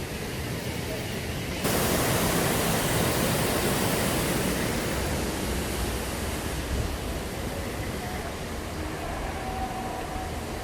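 Flowing water at a theme park attraction at Animal Kingdom, a steady broadband rush that swells louder after the first moments and continues evenly and closely throughout.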